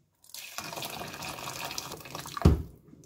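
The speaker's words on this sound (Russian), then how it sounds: "Заливаю кипяченой водой." Boiled water poured from above into a pot holding about a kilogram of bone-in beef and beans for sauerkraut shchi, a steady close splashing stream that ends in a brief heavier gush.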